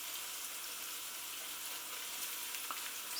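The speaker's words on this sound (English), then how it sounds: "Just allow that to fry off for a little bit." Chilli powder frying in a pan while a vegetarian puttanesca-style pasta sauce is cooked from scratch, giving a steady soft hiss and sizzle that stays even throughout, with one faint clink near the end.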